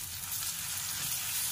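A paste of green chilli, ginger and garlic sautés in oil with onion, giving a steady, dense, close sizzle that stays even throughout with no voices.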